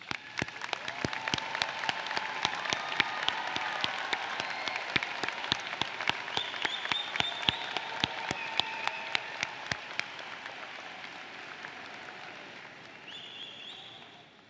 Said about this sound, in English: Seniors, please give these amazing people a round of applause.